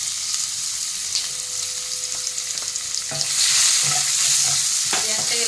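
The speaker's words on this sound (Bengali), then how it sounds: "পেঁয়াজটাকে লাল করে ভেজে নিতে হবে" Chopped medium onion frying in a pan until reddish, a constant hiss with spatula scrapes and knocks; the sizzle swells louder midway as the pieces are stirred, up close with no talking.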